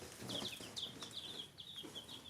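Plymouth Blue Rock chicks peep softly in quick, high chirps, several overlapping calls in a short burst, fairly quiet with a low background hum.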